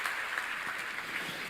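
Congregation applause during a church service, a steady wash of clapping at moderate level, slightly distant and continuous.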